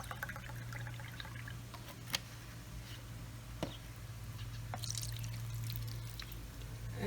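Soy sauce is poured into chicken and vinegar for a Filipino adobo marinade, a soft liquid trickle with occasional drips and small knocks from a bottle or bowl under a steady low hum, no voices.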